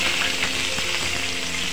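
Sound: green chili and capsicum frying in hot oil

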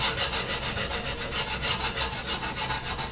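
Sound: draw filing a metal tool post with a very fine cut file

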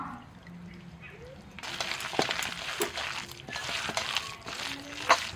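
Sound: pouring a little water into the fritter batter

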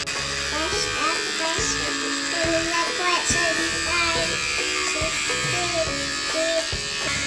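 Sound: electric beard trimmer buzzing

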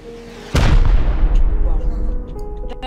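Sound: rocket explosion in video game Rust

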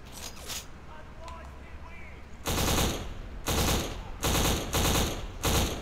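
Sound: burst fire gunfire in a video game

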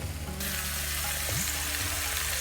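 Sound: stirring sizzling Indian rajma in a pan

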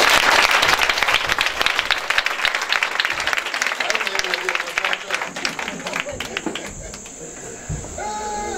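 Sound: congregation applauding and cheering to acclaim the Lord

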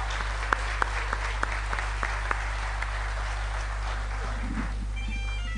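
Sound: audience applause for a performer

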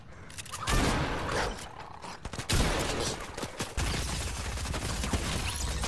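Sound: gunfire from the video game Fortnite

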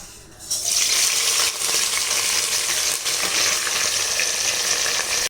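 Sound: onions sautéing in a pan for kudal curry

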